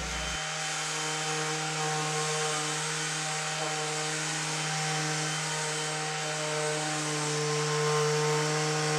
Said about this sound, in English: What I'm going to do is just come across this with the sander and break the edge